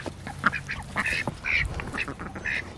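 Several ducks quack close by in quick, overlapping bursts at a homestead, a busy flock calling continuously over a short stretch.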